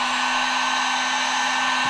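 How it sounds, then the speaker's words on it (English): A heat gun blows hot air on a part from a 2001 Honda CR250 during teardown, a steady, close, loud whooshing roar with an even motor whine and no change throughout. "I'm going to go ahead and hit it with a heat gun because my propane ran out"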